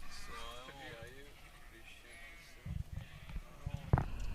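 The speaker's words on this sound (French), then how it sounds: "on s'est retrouvé encerclé par une horde de moutons" A flock of sheep bleating around a vehicle on a road trip, a few wavering bleats early on, then fainter calls mixed with scuffling and knocking noises nearby.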